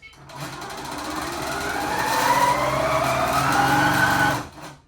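A quilting sewing machine with a 13-inch throat runs at high speed with the stitch regulator off, giving a loud, rapid mechanical whir and buzz whose pitch climbs as it speeds up, then cuts off abruptly.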